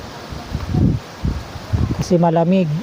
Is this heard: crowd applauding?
no